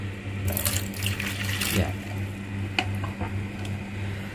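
Water pours and splashes out of a betta fish container into a bucket, a close, steady trickling and gurgling that lasts a few seconds.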